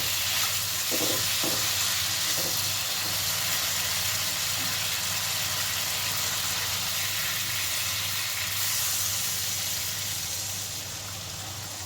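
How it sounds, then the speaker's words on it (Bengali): Water added to spice paste frying in oil for a Bengali prawn curry keeps a steady, loud sizzle and bubbling going throughout, with a few brief clinks of a utensil near the start. "এবার এর মধ্যে আমি দিয়ে দেবো পরিমাণ মতো জল"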